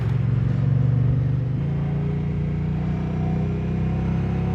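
A 2024 Moto Guzzi Stelvio touring motorcycle pulls away with a loud, steady engine drone from close by, its pitch shifting slightly as it accelerates, with no voices.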